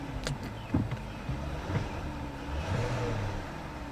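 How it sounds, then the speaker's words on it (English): A hooptie car bought at auction revs its engine hard, a rising and falling roar under a steady noisy rumble, with a few clicks and knocks near the start. "the engine just revved up like crazy"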